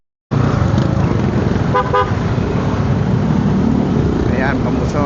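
Busy road traffic at the Muson crossing by Muson Market, with a steady dense rumble of engines and a couple of short car-horn toots cutting through, while a person talks over the noise.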